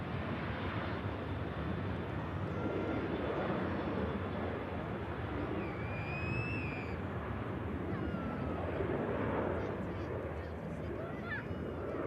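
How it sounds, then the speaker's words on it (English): A Ryanair airliner rotates off runway 23 left at Manchester Airport on a departure to Milan, its jet roar a steady, broad rumble at moderate distance that holds throughout. "Ryanair heading out to Milan. Okay. It's rotating off 23 left."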